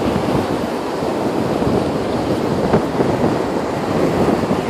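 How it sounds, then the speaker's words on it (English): Ocean surf rolls onto an Outer Banks beach at night, a loud continuous wash of breaking waves mixed with wind buffeting the microphone. "There's the ocean."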